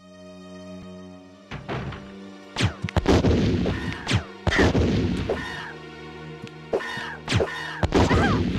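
Video game gunshots, several sharp loud blasts in irregular bursts with ringing tails, close and dominant.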